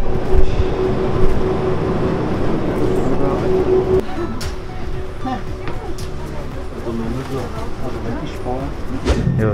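Steady rumble of a train carriage on the rack railway up to Zugspitze, Germany, a continuous rolling hum with a brief tonal whine early on, with people talking over it throughout.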